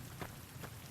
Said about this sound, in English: I'm just happy it's raining.